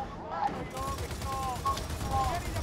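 Rapid turret gunfire in Gears of War 4, a dense burst of loud, close shots with ringing tonal whines, and voices talking over it.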